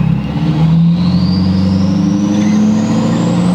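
A Ford 6.7L Powerstroke diesel pickup fitted with a huge turbo revving at high RPM, a loud steady engine roar with a rising turbo whistle climbing over several seconds, close up and without talk.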